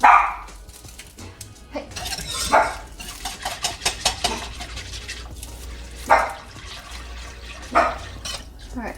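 A dog barks in short bursts in a home kitchen where poutine is being cooked, with loud yelps scattered over several seconds alongside a brief spoken word.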